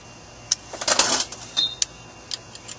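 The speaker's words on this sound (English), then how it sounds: "So now what we're gonna do is reverse your ratchet." A reversed ratchet wrench tightens a clutch bleeder valve on a Jeep Wrangler YJ, giving short bursts of sharp, close metallic clicks spread unevenly over a quiet background.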